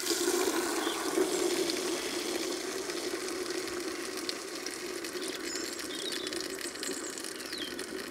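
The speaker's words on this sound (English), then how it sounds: "Take the nozzle off the end and then just pour it back into the bucket until the sprayer is completely empty." Leftover fence paint pours from a Ronseal Precision Finish Fence Sprayer with its nozzle removed back into a bucket, making a steady, even liquid rush that runs unbroken throughout.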